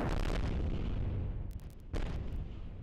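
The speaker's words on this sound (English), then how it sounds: "And now let's launch a second rocket." Rocket engines ignite in a game rocket build, a deep roaring rumble that dominates at first, dips briefly with a crackling pop, then surges back at full force.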